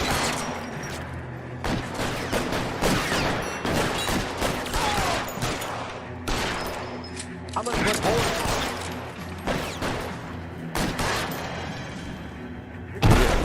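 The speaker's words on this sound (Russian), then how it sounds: "Я стреляю получше, чем..." Repeated gunfire bursts and scattered shots crackle through a 1940s Los Angeles crime shootout in L.A. Noire, loud and dense with booming impacts, while a voice talks intermittently underneath.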